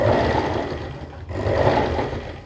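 A sewing machine stitches a full half-inch seam on a pair of pants, a steady, fairly loud motor hum that dips briefly in the middle before running on.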